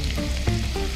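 Tomatoes hit hot oil in a pan for fish kokoreç, giving a loud close sizzle with crackling and a couple of brief scraping stirs over one second, no voices.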